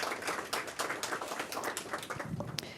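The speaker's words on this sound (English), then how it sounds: "a massive, huge round of applause for all of you for showing up and dressing up" Audience applause at a career event, with a dense patter of many hands clapping at moderate distance that holds steady throughout and fades slightly near the end.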